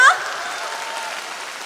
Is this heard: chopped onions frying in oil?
no